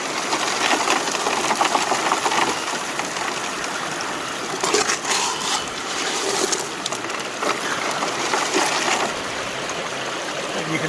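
A super sluice for gold prospecting runs hard outdoors, with a steady engine drone and rushing water flowing through it continuously, loud and close, with no one talking.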